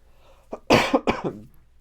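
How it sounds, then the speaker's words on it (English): A person coughs a few times in quick succession, close and fairly loud, a short harsh burst. "my cough is not getting any better"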